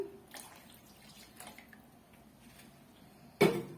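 A glass of milk pours into a pot of semolina dessert, making a short, close splashing gush near the end after a few quiet seconds of faint kitchen sounds.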